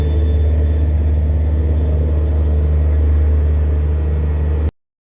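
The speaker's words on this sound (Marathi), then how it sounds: "मंगला एक्सप्रेसला मागे ठेवून आपली गाडी आता पुढच्या मार्गाला लागलेली आहे." Passenger train on the Konkan Railway rolling out of Panvel in the rain, a steady loud low rumble and drone close by that runs unbroken for nearly five seconds before cutting off abruptly.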